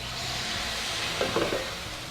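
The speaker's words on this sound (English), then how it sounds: "Let's go ahead and add our Cabernet Sauvignon to the pan." Cabernet Sauvignon goes into a hot pan used for beef tenderloin with mushroom sauce, giving a low, steady sizzle and hiss with a few faint utensil clinks toward the middle.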